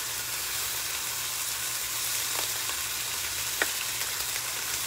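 Bacon frying on a Blackstone griddle gives off a steady, dense sizzle, close and continuous, with a couple of brief pops or scrapes partway through and no talking.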